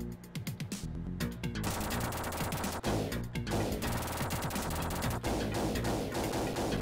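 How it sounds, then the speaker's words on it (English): Rapid shotgun and automatic gunfire from the Terminator 2 arcade game, with dense overlapping bursts and crashes that are loud and continuous over game music, without talk. "I'm sitting there shooting him."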